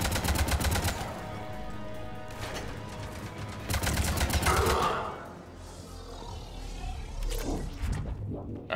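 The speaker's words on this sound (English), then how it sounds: "Assault rifle." Assault rifle gunfire in Mass Effect 3: rapid automatic bursts sound in repeated volleys, with a roaring creature grunt in between, followed by a quieter stretch of ambient game sound.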